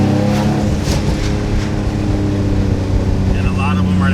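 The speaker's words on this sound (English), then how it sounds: "All the turbo noises, this is why I went turbo." A 700hp turbocharged Infiniti G35 runs loud and steady with a dense low engine drone and whooshing turbo noise, continuous throughout.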